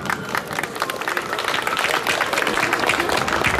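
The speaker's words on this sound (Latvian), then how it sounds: "Aplaus viņai!" An audience at a book festival applauds, with dense, steady clapping from a sizeable crowd that grows slightly fuller and holds without a break.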